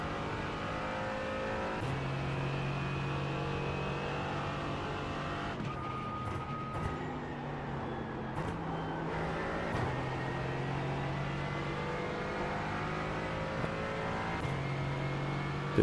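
Sports cars racing at the Nürburgring in iRacing, a steady engine drone with rising and falling revs and gear changes, other cars audible around it, no talk.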